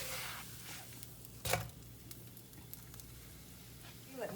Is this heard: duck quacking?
no